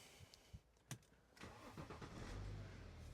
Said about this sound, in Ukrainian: Автомобіль завівся гарно, працює він дійсно легесенько.